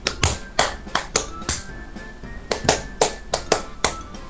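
Sharp hand claps come in a syncopated rhythmic pattern imitating a theme song, about a dozen crisp, close claps grouped in repeating phrases.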